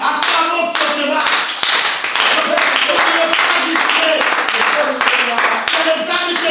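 A church congregation claps loudly and continuously in a steady dense patter, with a voice talking over the applause throughout.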